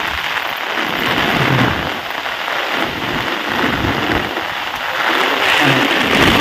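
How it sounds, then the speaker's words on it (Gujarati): Heavy rain pours down steadily in loud, dense hiss, driven by strong wind that swells and rumbles low through the downpour, with no voices over it. "ફૂલ વરસાદ આવે છે વરસાદ શું ફૂલ પવન આવે છે વરસાદ વધતો જાય હળવે હળવે"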